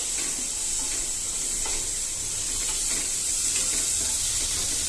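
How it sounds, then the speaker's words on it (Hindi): Onion and a pinch of hing sautéing in hot oil for a spiced paneer gravy, a steady loud sizzle and crackle close by that fills the whole stretch with no voices. "pinch of hing, onion, and saute it."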